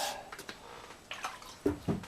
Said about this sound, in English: I start out by dipping these papers in the water, getting them wet